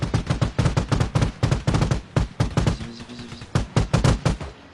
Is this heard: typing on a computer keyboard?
no